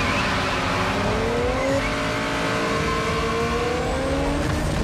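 Cars race in a Fast and Furious movie scene with a loud, continuous engine roar whose pitch rises and falls, along with squealing tires, close and intense with no voices.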